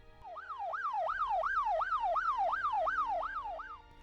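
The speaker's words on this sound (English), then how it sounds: "As the police car drives past us, the sound waves are stretched behind it" A police car siren wails, sweeping up and down in a steady, regular cycle, fairly faint, rising and then easing off with Doppler shift as it drives past.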